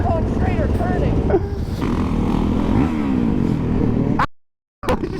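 A motorcycle engine drones on a street ride during a wheelie, loud and close with a rough steady roar and some wind noise, then cuts out briefly near the end.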